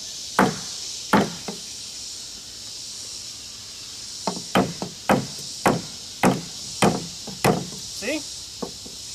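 A knife struck repeatedly with a wooden stick to carve a V-notch in wood, giving sharp, close knocks, a few widely spaced at first and then a quicker run of about ten hard whacks.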